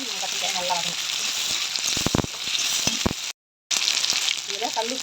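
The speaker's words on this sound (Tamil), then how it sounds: "இந்த வெங்காயம் இந்த கத்திரிக்காய் நல்லா வதங்கணும்" Onion and brinjal sauté in a pan, giving a steady close sizzle and frying hiss. Stirring clatter comes through in short bursts, and the sound drops out briefly near the end.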